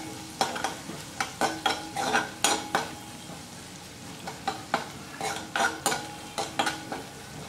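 Peanuts roasting in a pan for sabudana khichdi, stirred with a spoon in repeated scraping, rattling strokes that come in bursts over a soft background sizzle, close and fairly loud.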